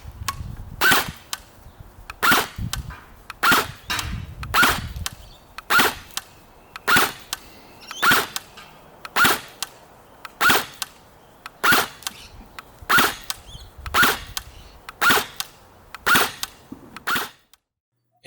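A Jund M4 CQB gel blaster, also sold as the Tactoys M4 V10, fires gel balls in sharp single shots, about fifteen evenly spaced cracks roughly a second apart, close and loud, with quiet gaps between and no talk.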